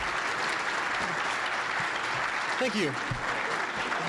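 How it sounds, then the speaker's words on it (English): An audience at a conference applauds with a steady wash of clapping that runs through the whole moment, while someone briefly speaks over it near the middle. "I want to just ask that we give Paul a big round of applause."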